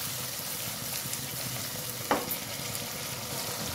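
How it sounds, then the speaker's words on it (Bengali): Paneer fries in hot oil with a constant, even sizzle in a home kitchen, broken by one brief scrape of stirring partway through. "এটা ভালো করে ভাজা ভাজা হয়ে দেবো।"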